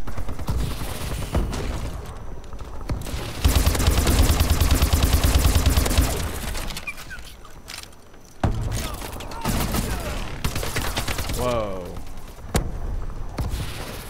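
Rapid gunfire and booming blasts from the Call of Duty: Advanced Warfare video game, with an OHM weapon in shotgun mode, dense loud bursts filling much of the stretch with brief lulls and game sounds between.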